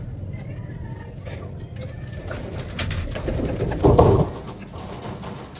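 Racing pigeons coo softly at a loft during summer race training, a low murmuring burble that swells briefly, mixed with rustling, faint twittering and someone talking.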